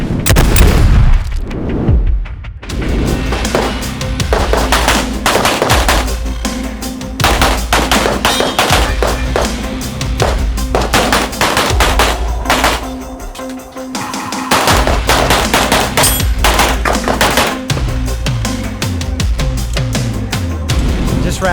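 Gunfire at a practical shooting match stage during the Texas Open in Rosenberg, Texas: a loud, close barrage of rapid shots in quick strings with brief pauses between positions, continuing almost without letup.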